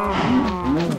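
Minecraft cows moo close by, two drawn-out, lowing calls filling about a second, with no talking over them.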